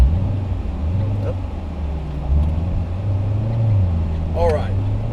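A 2018 Chevrolet Corvette Grand Sport on Cup 2 tires at the Road Atlanta track gives a steady, deep engine rumble that rises and falls slightly, close and continuous, with a brief whistle-like tone near the end.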